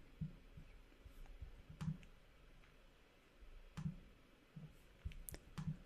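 Computer mouse clicks, a few soft, sparse single and paired clicks spread out at irregular intervals over a quiet room background.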